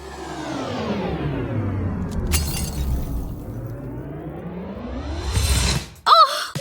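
A glass mirror shattering, a bright crashing burst of breaking glass followed later by another sharp smash, over a loud sweeping whoosh.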